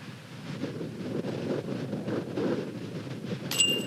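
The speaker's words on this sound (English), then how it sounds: "There's so much wind out there." Strong wind roars continuously on an outdoor disc golf course during a tournament round, a dense low rumble of gusts buffeting the microphone, steady throughout with a brief faint chime near the end.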